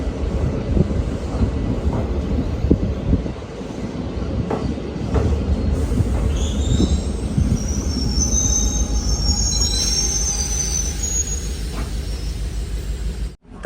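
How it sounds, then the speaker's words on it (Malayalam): A passenger train rolls into Bishalgarh station in Tripura with heavy, continuous rumbling and clatter, and high metallic wheel squeals rise in the second half. The sound is loud and close, with wind buffeting and no talk. "ട്രെയിൻ ഇപ്പോൾ ബിഷൽഗഡ് സ്റ്റേഷനിലെത്തിയിരിക്കുകയാണ്"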